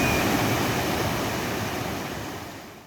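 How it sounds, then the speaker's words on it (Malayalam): A waterfall near Sholayar Dam pours with a dense, steady rushing roar of falling water, broadband and continuous, fading slightly toward the end with no voices. "ദാണ്ട് കിടക്കുന്ന മറ്റൊരു വെള്ളച്ചാട്ടം."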